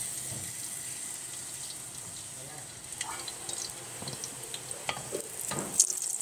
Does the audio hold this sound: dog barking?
no